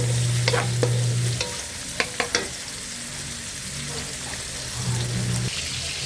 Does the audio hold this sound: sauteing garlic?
yes